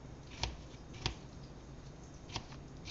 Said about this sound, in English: And we just dice them up.